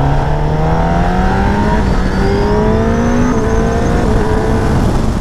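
A 2019 Kawasaki ZX10R motorcycle accelerating hard with quick-shifter upshifts, its loud, close engine note climbing steadily in pitch and briefly dropping at each of two quick gear changes, with no talking.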